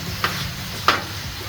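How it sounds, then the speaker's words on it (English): Chicken sizzles on a grill for street tacos, a constant crackling hiss with two brief scraping clatters as the pieces are moved around, no talking heard. "Oh, you can smell the sizzling."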